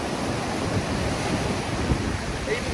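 Surf crashes and rolls onto a beach in rough, windy conditions, a loud, continuous roar of breaking waves mixed with wind buffeting the microphone, with no talk.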